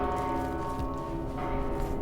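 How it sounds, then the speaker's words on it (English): A golden bell rings in the video game Mortal Shell, its sustained metallic tone humming with steady, layered overtones for about two seconds at moderate, even loudness with no talk over it. "Golden bell."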